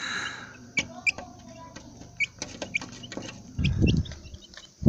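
Backyard chickens, tended in the morning, cluck in short irregular bursts close by, with a louder throaty stretch of clucking near the end.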